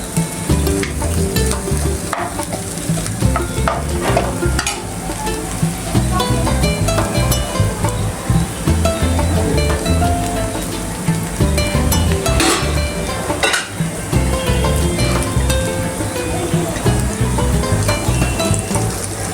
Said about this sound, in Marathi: आपण मीठ टाकूया आणि जिरं पण परतून घ्या थोडंसं